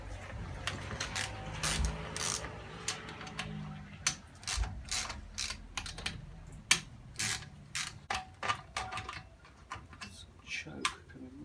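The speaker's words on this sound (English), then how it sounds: "Let's do this with a wrench." Wrench turning out 8mm bolts on a Honda FG201 carburetor, heard as a run of quick, close ratcheting clicks in short bursts with faint mechanical creaks between them.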